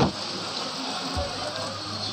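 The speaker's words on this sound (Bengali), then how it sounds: "তো প্রচণ্ড বৃষ্টি হচ্ছে" Heavy rain pours down steadily in a town, a dense, even hiss of falling water that runs throughout without a break.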